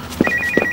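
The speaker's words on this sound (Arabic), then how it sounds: "تليفون." A telephone rings indoors in a domestic scene, giving two short electronic ring bursts over a steady tone, close and clear with no talking.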